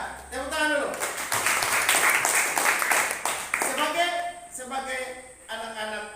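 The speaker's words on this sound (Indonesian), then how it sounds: "Ya, tepuk tangan dulu." Schoolchildren in a classroom clap together in a brief burst, with a teacher talking before and after the applause.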